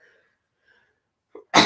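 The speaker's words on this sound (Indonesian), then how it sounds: "ini bersin ini" After near silence, a person draws a short, quick breath and then lets out one loud, sharp sneeze close to the microphone.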